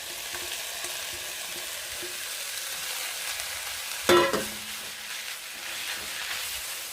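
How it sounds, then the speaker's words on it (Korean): Seasoned hardy kiwi shoots stir-fried in perilla oil in a hot pan give a continuous close sizzle and hiss, with a brief clatter partway through as the greens are tossed. "팬을 달구고 들기름 한 2스푼을 이렇게 넣어서 묻혀놓은 다래순 나물을 이렇게 넣어서 볶아줄 겁니다"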